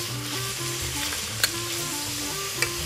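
Fatty pork shoulder strips stir-fried in a hot wok for fried rice noodles give off a steady, close sizzle, with two sharp spatula clacks against the pan and no talking.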